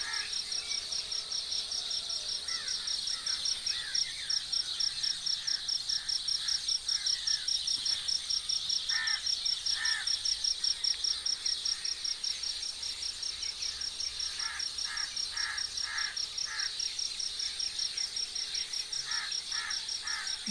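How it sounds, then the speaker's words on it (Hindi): Early-rising birds call at a pond at dawn, their brief, repeated chirps scattered through a steady, high insect drone, with no talk. "चिड़ियाँ जाग गई हैं, उनकी आवाज़ें आप सुन रहे होंगे।"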